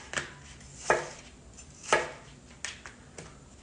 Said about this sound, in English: And we will chop up those apples.